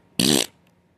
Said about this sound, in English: Why are you farting